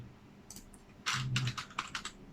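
Fingers type on a computer keyboard while filling in a family-reunion visa application form, starting with a few light taps and then a quick close burst of keystrokes.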